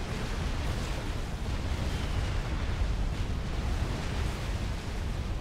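Constant dense rumbling roar of massed gunfire and explosions from a Supreme Commander Forged Alliance battle, with a large experimental unit present, steady and loud throughout with no pauses.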